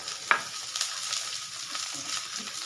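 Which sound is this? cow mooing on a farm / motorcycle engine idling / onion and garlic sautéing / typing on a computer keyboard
onion and garlic sautéing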